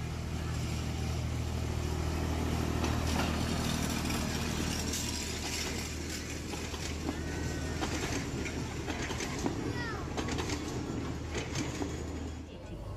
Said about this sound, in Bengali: আর টয় ট্রেনটা আমাদের সামনে দিয়েই যাচ্ছে।